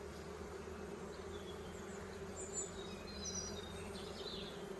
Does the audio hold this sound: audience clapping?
no